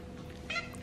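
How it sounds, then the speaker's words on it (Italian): A white pet cat gives a single short, soft meow indoors, close by, over a low background hum. "Il mio gattino"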